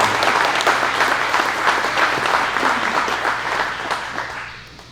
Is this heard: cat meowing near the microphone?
no